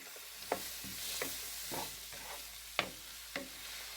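Gyros filling cooks down in a pan with about a tablespoon of oil, a soft low sizzle broken by several sharp spatula scrapes and stirring knocks at irregular intervals, fairly quiet and close.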